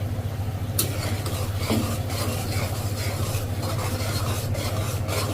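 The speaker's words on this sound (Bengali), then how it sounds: "ভালোভাবে নাড়াচাড়া করে মশলাটা মিডিয়াম আঁচে দশ মিনিটের মতো কষিয়ে নিয়েছি" Spice paste of red chilli, turmeric and coriander powder fries in oil over medium heat for a beef and potato curry, heard as continuous close scraping and stirring over a low sizzle, without voices.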